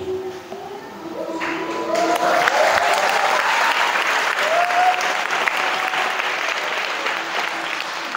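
An audience at a motivational seminar in a Quran memorisation school breaks into sustained, dense applause that builds and holds for several seconds, with a few raised voices mixed in.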